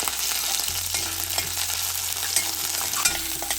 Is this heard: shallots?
yes